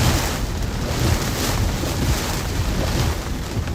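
Wind from a Florida summer thunderstorm roars steadily against the microphone, loud and close with a dense, unbroken rush and no talking.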